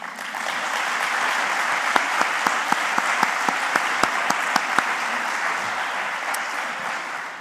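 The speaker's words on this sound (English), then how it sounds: "So an applause to you, please." A large conference audience applauds at the closing session of the EURAXESS Biennial Conference 2024, producing steady, dense clapping with a few sharper individual claps standing out, and no talking.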